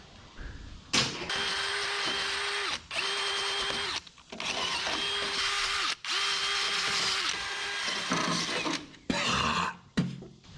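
Power tool work on a 1963 IH Loadstar truck, an impact driver or drill in loud bursts of a few seconds each, with ratcheting and clanking between them, close by, no talking.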